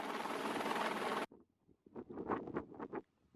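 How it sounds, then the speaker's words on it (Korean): A helicopter ferrying a Himalayan expedition toward Dhaulagiri base camp in Nepal, a loud, dense rotor and engine roar that cuts off abruptly after about a second, followed by softer gusty rushes of sound. "그리고 다시 헬기를 통해 이동은 계속됐습니다."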